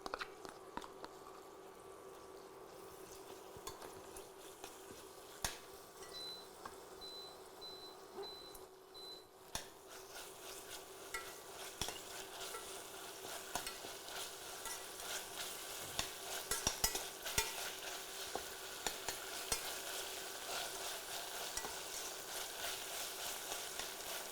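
Onions sauté in a pan while being stirred for a white kurma, giving a faint steady sizzle with occasional scraping clicks from the stirring.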